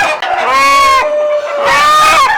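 Loud, close Sonali chicken vocalizations fill the recording, two drawn-out harmonic calls separated by a brief lull, sounding more like crowing squawks than soft clucks.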